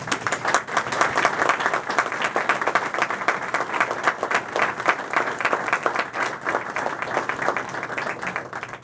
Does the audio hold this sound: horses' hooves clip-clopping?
no